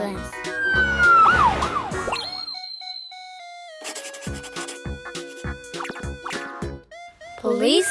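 In a cartoon kids' show, synthetic ambulance and police car sirens rise and fall in bright, toy-like wails, mixed with springy boing effects. The sounds come and go in loud bursts with a short quiet gap and talking throughout.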